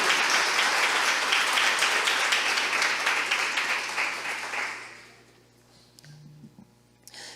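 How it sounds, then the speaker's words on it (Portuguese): A church congregation breaks into dense applause for the Holy Scripture after a reading, sustained for several seconds before fading out into near silence with a couple of small knocks. "Dá uma salva de palmas"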